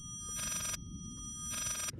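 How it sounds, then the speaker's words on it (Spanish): A telephone rings twice in electronic bursts, each about half a second long, over a low steady hum. "El teléfono está ahí abajo."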